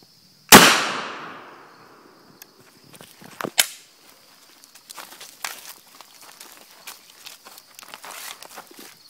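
A single sharp, loud FiveSeveN 5.7x28mm pistol shot fired from ten feet into Level II body armor backed with modeling clay, followed by a decaying ring and scattered footsteps and handling noises.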